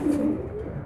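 Pigeons cooing in a pigeon loft, a short low throaty coo heard close and fairly soft, without talk.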